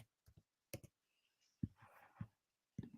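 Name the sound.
typing on a keyboard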